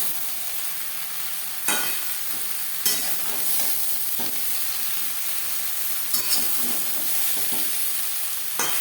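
Ridge gourd, potatoes and spices are stirred in a sizzling pan, the spatula scraping in several distinct strokes over a constant frying hiss.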